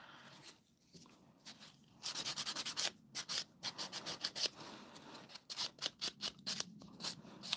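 Fingernails being filed and buffed during an at-home nail art session, a series of short, rapid scratchy rasping strokes in quick bursts, close and fairly quiet, with no talking.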